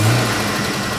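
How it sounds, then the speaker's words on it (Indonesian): A carbureted motorcycle engine revs hard and loud, a rough continuous roar that holds steady. "Kalau kita geber suaranya ini masih halus ya?"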